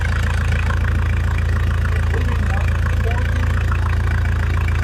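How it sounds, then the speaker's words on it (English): A sailboat's inboard engine idles steadily in a marina before departure, a constant low throbbing drone with even mechanical chugging, close and unvarying throughout, with no voices over it. "Before we leave the marina, we always check the boat, and first the engine."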